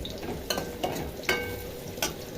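Radish frying in a pan with plenty of oil gives a soft, steady sizzle close by, marked by a few sharp spatters and utensil clicks, with no voices.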